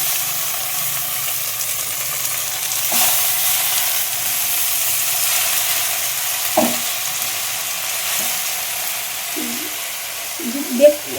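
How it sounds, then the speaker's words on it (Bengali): Greens (saag) frying in a pan, a steady soft sizzle and hiss running throughout, with occasional brief stirring clatters and a few small knocks near the end. "এবার শাকটা ভাজা বসিয়ে দেবো"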